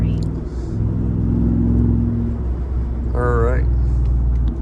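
A loud Ford F150 with a 5.0 engine drives through noon traffic, a heavy continuous low rumble close by, with brief speech over it and a short tonal whine near the end.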